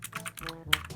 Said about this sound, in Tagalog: ang sarap pa rin mag-type sa keyboard na to